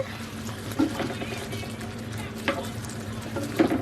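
Broccoli simmering in a cream sauce in a pan, giving a steady low bubbling sizzle with occasional stirring scrapes, close and continuous throughout.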